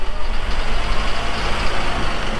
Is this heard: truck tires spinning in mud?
yes